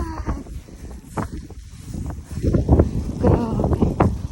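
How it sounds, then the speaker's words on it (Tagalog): Strong gusting wind during a snow storm in Mississauga, Canada, buffeting loudly and unevenly while people walk through soft snow, with voices talking in bursts. "Lakas ang hangin."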